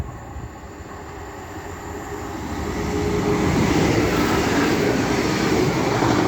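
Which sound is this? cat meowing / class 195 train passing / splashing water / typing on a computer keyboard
class 195 train passing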